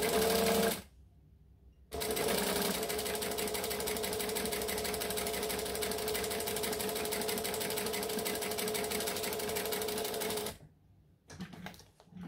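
A sewing machine stitches the seam of a fabric bowler bag an eighth of an inch from the edge, running steadily at close range for several seconds between brief stops.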